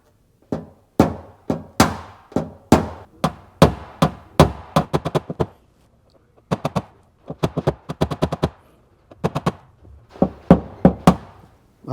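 A knockdown tool taps micro high spots out of a dent in a car's front fender during paintless dent repair, sharp close metallic knocks in quick bursts of several taps, separated by short pauses.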